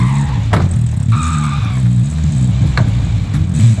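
A car engine steadily driving in the Warzone video game, a loud continuous drone with low harmonic rumble and slight shifts in revs, plus a few faint knocks, with no talk over it.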